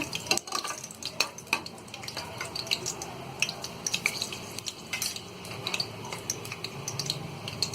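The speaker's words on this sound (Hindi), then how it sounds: "ये जावित्री और ये तेज पत्ता, ये डाल देंगे। इसे हम हल्का सा फ्राई करेंगे।" Cloves, cardamom, cinnamon, mace and bay leaf lightly fry in oil for a mutton curry, a soft sizzle beneath frequent close clinks and scrapes of a spoon stirring in the pan.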